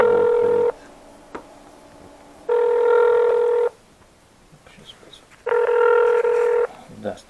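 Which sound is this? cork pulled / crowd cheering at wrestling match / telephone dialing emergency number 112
telephone dialing emergency number 112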